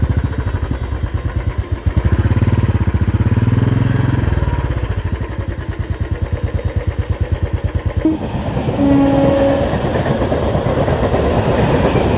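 A local train rumbles past a closed level crossing gate, loud and close, with a steady, rapid clatter of wheels over rail joints that shifts in tone near the end.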